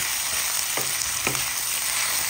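Beef and vegetables for adobo fry in a hot pan, a loud continuous sizzle with a couple of brief stirring scrapes, no voices.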